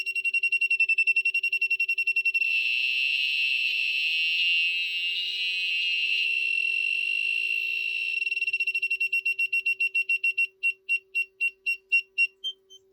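Loud, steady electronic buzz from a counter circuit built with 4017 and 7414 chips, a constant high tone that breaks into rapid pulsing beeps toward the end as the speed changes.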